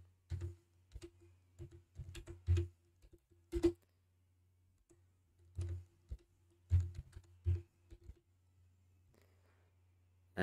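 Keys on a computer keyboard are tapped in irregular bursts of quiet, close clicks with pauses between, fading out toward the end.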